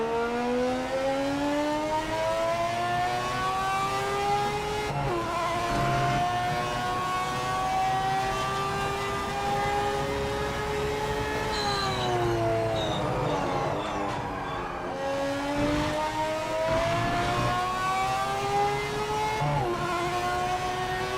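Race car engine in a PC racing game styled on late-1980s to early-1990s Formula One, a loud high-pitched wail climbing through the gears with sharp shifts and brief lifts, alone without talk.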